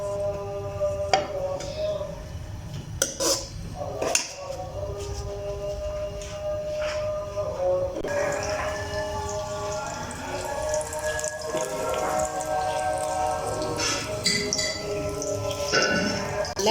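Chopped onions dropped into half a cup of hot oil for a curry, frying with a steady hiss and crackle that grows brighter and louder partway through, with faint kitchen clinks.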